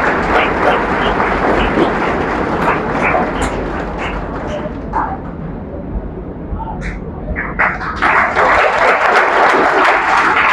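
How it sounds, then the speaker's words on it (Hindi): Loud, sustained applause from a crowd at a prize distribution ceremony, steady clapping that fills the hall with a brief dip midway, under an announcer calling ranks. "जोरदार तालियां।"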